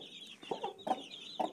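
A hen clucks on a farm raising chicks, several short, fairly close clucks in an irregular rhythm over quiet background, with a faint higher bird call running behind.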